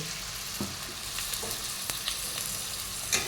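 Ground coriander and cumin fry with a splash of water in a pan and are stirred, making a continuous close sizzle with occasional scraping clicks from the spoon.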